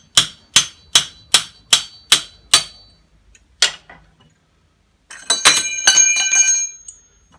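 An old extension bar is hammered against brass fittings to drive them off heavy copper tube: seven sharp ringing metallic strikes in quick succession, a pause, one more hit, then a scraping, jangling clatter of metal pieces, close and loud.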